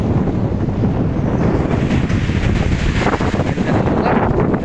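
Steady, loud wind buffets the microphone at a beach resort in Agoo, La Union, a continuous broadband roar with possible surf mixed in, unbroken and without any voices.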